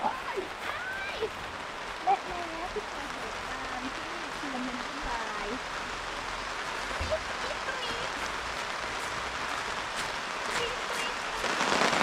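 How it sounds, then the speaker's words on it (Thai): Rain falling at a campsite beside a stream, a soft, steady hiss with scattered drops, heard under people talking nearby throughout. "ฝนมาพอดี"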